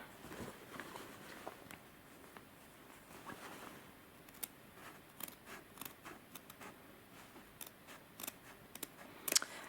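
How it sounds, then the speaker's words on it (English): Scissors cut through coat fabric toward a corner, quiet irregular snips and rustles close up, with a sharper click near the end and no talk. "Then I'm going to cut this one also to the corner."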